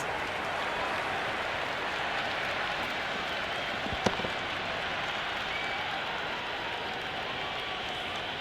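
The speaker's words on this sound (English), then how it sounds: "It's almost palpable, the excitement emanating from this crowd at the moment." A stadium crowd in the Cricket 26 video game, during a Hundred tournament match, keeps up a dense, steady roar of cheering and applause, with one sharp click partway through.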